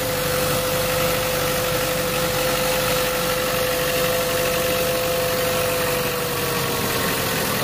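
A Chevy Cruze 1.4L engine idles quietly and steadily after a belt tensioner replacement, with an even, unbroken hum and a faint steady whine heard up close.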